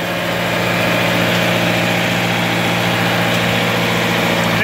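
A John Deere 3020 tractor with a loader runs steadily nearby, its diesel engine a loud, constant, vibrating drone with no break throughout.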